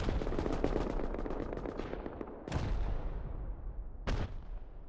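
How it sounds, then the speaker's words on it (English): Rapid automatic gunfire rattles in the Rust video game during a 5v5 base-raid tournament, a dense burst followed by two heavy booming blasts that fade out, loud and close. "Funnel and Bomji look like they are exchanging fire and rockets, maybe?"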